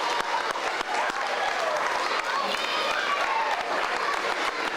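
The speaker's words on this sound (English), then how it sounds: "Can we have a round of applause?" A crowd of children and adults at an elementary school Arbor Day celebration applauds Smokey's arrival, with dense sustained clapping and cheering throughout and voices mixed into the noise.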